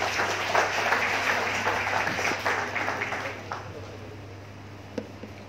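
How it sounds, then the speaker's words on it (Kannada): A lecture audience claps together in a hall, a dense burst of applause that holds for a few seconds, then thins out and fades, leaving a low hum and a stray tap. "ಎಲ್ಲರಿಗೊಂದು ಚಪ್ಪಾಳೆ ಹೊಡೆದು ಬೇಡ ಜೋರಾಗಿ ಅವ್ರು ಬಂದಿದ್ದಕ್ಕೆ."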